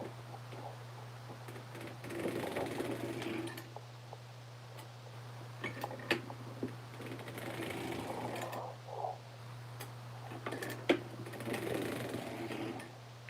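Hand-cranked sock knitting machine working through a row for scalloped hem socks, giving a steady mechanical whirring with faint ticking clicks over a constant low hum, close and moderately quiet with no talk.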